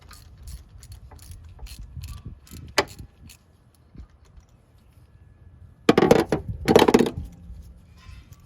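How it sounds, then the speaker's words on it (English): A 3/8-inch ratchet works the spark plugs on a 1989-1997 Mazda Miata MX-5, giving quiet scattered clicks followed by two louder bursts of fast ratcheting close by, with no talking. "Got my 3/8 ratchet."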